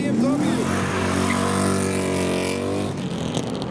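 Several cars, including a PS13 and a little Mark 1 MX-5, drive out of a car show, giving a steady loud engine drone with a rising rev near the start and people talking over it.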